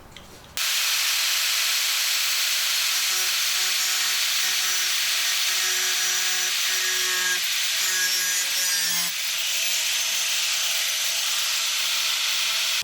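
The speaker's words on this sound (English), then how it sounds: "I've got a little metal cutoff wheel. I'm going to come in, cut on this, cutting just this piece, not on the outer skin." Small metal cutoff wheel slicing through the sheet metal of a Ram ProMaster van for a window install, a loud, close, continuous high-pitched grinding screech that starts abruptly and runs unbroken, dipping briefly near the end.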